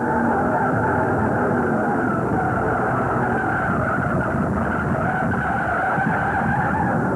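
A 1969 NASCAR race car's tires screech in a long continuous skid on oil at Darlington Raceway, loud and rough under a roaring engine, lasting throughout with no voices.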